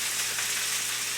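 Squash sizzling and frying in a pan on the stove, a steady bright crackling hiss that holds evenly throughout, close and fairly loud with no talk.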